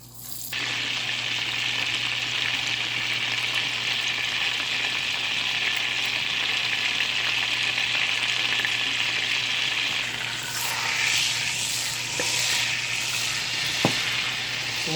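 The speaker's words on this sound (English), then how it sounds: "So you add 3 sticks of butter and you wait till it melts" Three sticks of butter melt in a pot for a seafood boil sauce, giving a steady, close sizzling hiss throughout, with a few faint clinks near the end.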